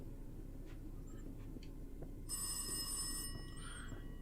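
An old-style telephone bell rings in the horror game Rise of Insanity, a bright, loud metallic trill lasting about a second over a quiet hum, preceded by faint scattered clicks and footsteps.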